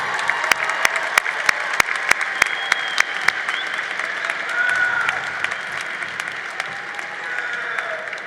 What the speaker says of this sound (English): give them a round of applause to show your gratitude